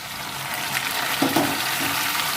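Ginger garlic paste hits a hot pan with a brief sizzle and a few stirring scrapes over steady frying hiss, close by.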